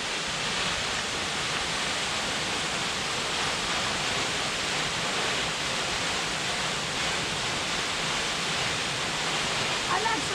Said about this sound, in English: We're at the base of Queen Falls, and look at that.